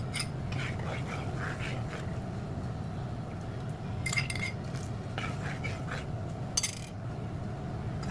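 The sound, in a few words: stirring hot water mixture in a pan with a utensil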